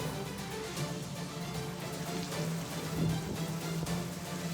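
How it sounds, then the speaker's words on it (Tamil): Heavy rain driven by strong wind around Udumalaipettai in Tiruppur district, heard as a steady, dense broadband roar of downpour with gusty swells and no break. "திருப்பூர் மாவட்டம் உடுமலைப்பேட்டை மற்றும் சுற்று வட்டார பகுதிகளில் பலத்த காற்றுடன் கூடிய கனமழை பெய்து கொண்டிருக்கிறது"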